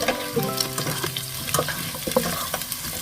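Cauliflower and pork meatballs stir-fried in a wok: a loud, continuous sizzle broken by repeated clattering scrapes and tosses of the spatula, close up, with no voices.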